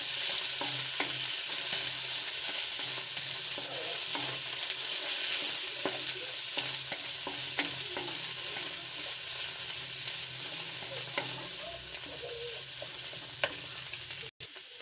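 Bottle gourd halwa being stirred in a pan, a continuous close sizzle and frying hiss with repeated scraping stirs of the spoon throughout, loud and without talk.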